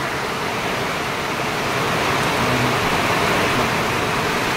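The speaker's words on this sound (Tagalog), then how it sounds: "Naganam-anam og kakusog ang hangin ug ulan." Typhoon wind and heavy rain in Danao, Cebu make a steady, dense roar with a constant hiss that never breaks and stays loud throughout.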